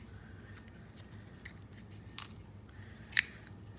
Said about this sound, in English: I'm going to cut a few hearts out.